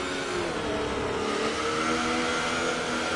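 Two Ferrari race cars run side by side at racing speed, their engines a loud, steady high-revving drone held throughout with no talk over it.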